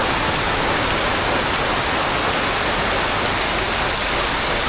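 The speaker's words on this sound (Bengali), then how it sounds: "দেখ কত বৃষ্টি নামছে নাজিফা, কত বৃষ্টি নামলো।" Heavy rain pours steadily on a village, a dense, continuous hiss and patter of drops on surfaces, loud and close with no breaks throughout.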